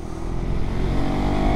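Motorcycles doing wheelies roar in a loud, continuous engine drone that lasts only a moment, with no voices.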